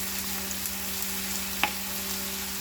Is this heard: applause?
no